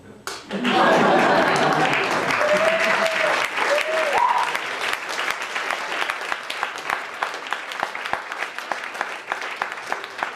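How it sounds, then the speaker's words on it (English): A theater audience at a live serial stage show bursts into loud, sustained clapping that swells quickly and keeps going, thinning slightly toward the end, with a brief voice heard within the crowd noise early on. "Big round of applause"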